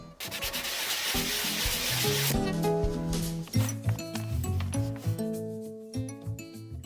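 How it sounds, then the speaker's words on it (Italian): A picture frame being sanded by hand with a fine abrasive sponge produces close, steady rubbing strokes, with clinking and tapping sounds and a few tonal notes mixed in. "Rifinisco carteggiando tutto con una spugna abrasiva, meglio se fine."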